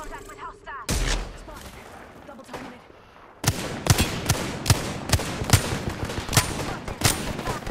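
Gunfire in the Apex Legends video game cracks out in rapid automatic bursts, loud and close, after a quieter stretch with a single shot near the start, while voices chatter faintly in the background.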